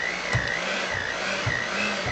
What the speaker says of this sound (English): I don't want to get your hands in the blender